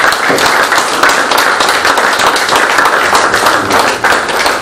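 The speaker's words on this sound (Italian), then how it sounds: "unirei un applauso di ricordo per quella persona" Sustained applause from an audience at a commemorative study day, dense loud clapping from many hands filling the room without a break.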